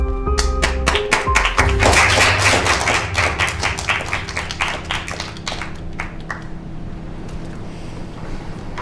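Applause from a group at an office planning meeting, a burst of dense clapping that starts strong and thins out into a few scattered claps over several seconds.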